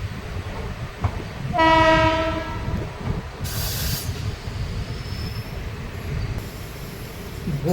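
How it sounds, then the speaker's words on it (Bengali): Train 13046, the Deoghar–Howrah Mayurakshi Express, leaves Deoghar station in the quiet before dawn. One loud horn blast rings out over the rumbling carriages, followed by a short screech of wheels and steady clattering on the rails. "ভোরবেলার নিস্তব্ধতা ভঙ্গ করে দেওঘর স্টেশন থেকে ছাড়ল train number 13046 Deoghar Howrah Mourakshi express"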